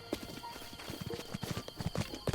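Horse hooves galloping in The Legend of Zelda: Breath of the Wild, a fast, steady run of close, distinct thudding clip-clops with no talk over them.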